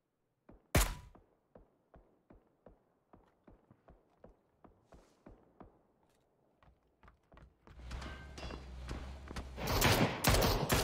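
Gunfire in a PUBG esports match, heard as a regular series of sharp, fairly quiet single shots followed by louder, denser bursts and impacts near the end, with almost no talk.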